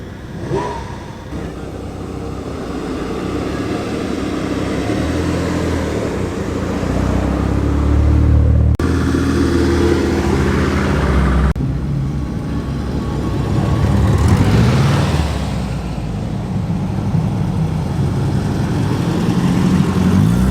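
An Alpine GTA V6 turbo at a classic car show, its engine running with a steady broad roar that shifts in tone partway through, alongside busy outdoor show noise and no clear talk.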